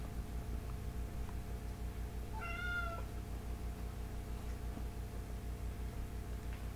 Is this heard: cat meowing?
yes